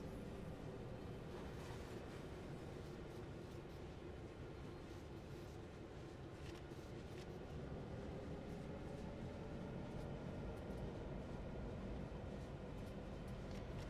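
Simulated train coasting on the Oakville Subdivision in Train Sim World 3, a steady low rumble with rolling wheel noise and a faintly rising hum, continuous and quiet throughout.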